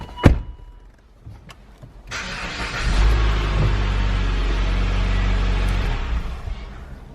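A Mitsubishi car with a weak battery starts on a jump box: after a brief click and a short whir, the engine cranks and catches about three seconds in, then settles into a steady, fairly loud idle close by, with no talking.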